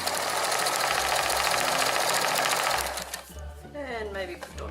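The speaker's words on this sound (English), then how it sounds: "I'll do a reverse. There you go. Put it on" A sewing machine runs fast and loud, its rapid mechanical stitching hum steady for about three seconds, then stops; a voice speaks afterward over a quieter background.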